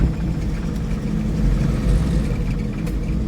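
Steady, loud low-pitched engine drone of a loaded truck running along the road, heard close and continuous throughout without voices.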